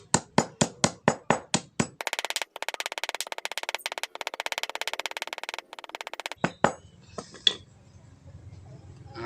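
Five tablets are crushed for a homemade insecticide, first with about eight sharp evenly spaced pounding knocks, then a rapid rattling grind, and finally scattered scraping taps; close and clear, no talking.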